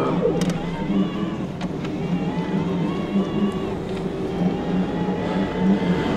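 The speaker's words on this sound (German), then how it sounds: "gucken mal, wie der Terran-Motor uns auf 25 km/h beschleunigt" Tarran T1 Pro cargo e-bike hub motor pulling away in turbo mode up to about 25 km/h, a steady low whir with rising tone under road and wind noise, heard from the rider's position.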